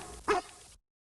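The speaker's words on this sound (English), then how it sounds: "Matt awakened to the sound of Lassie's desperate barking." A single short, sharp dog bark from the 1996 PC Lassie interactive moviebook sounds once, then cuts to silence before another sound begins.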